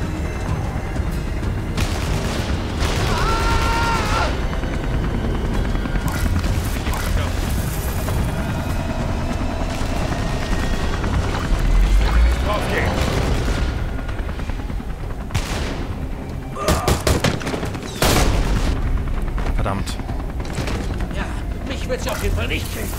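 Gunfire in Beyond: Two Souls, dense repeated automatic bursts and booming shots, loud and chaotic over rumbling background noise, with stretches of irregular single cracks.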